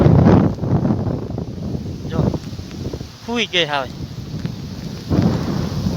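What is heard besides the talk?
windstorm with rain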